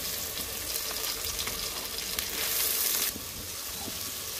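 Ginger-garlic paste hitting fried onions in a pan for beef curry, a continuous hissing sizzle that swells briefly near the end before settling, close up with no voices.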